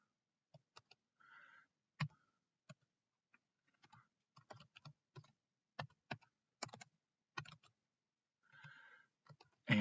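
Someone types on a computer keyboard while entering a math formula into a graphing calculator: scattered individual key clicks and short flurries of taps, with pauses between them, close and fairly quiet, and no talking.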